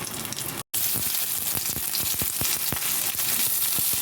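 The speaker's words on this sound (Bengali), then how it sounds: "আমি কেটে রাখা পেঁয়াজ দিয়ে দেবো" Chopped onion frying in hot oil with Bengali five-spice tempering gives a loud, dense sizzle that runs continuously, broken only by a brief silent gap near the start, with sharp crackling pops scattered throughout.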